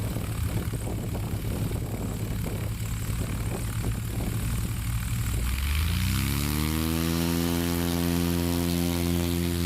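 A light plane's propeller engine at a STOL short-takeoff competition roars loudly, then its pitch sweeps upward into a strong rising drone as power comes up for takeoff, close by and with no talking.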